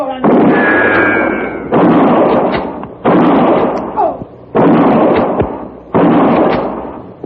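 Sharp gunshot effects in an old Western radio drama shootout, five loud blasts each followed by a decaying rumble, spaced about every one and a half seconds, with no talk over them.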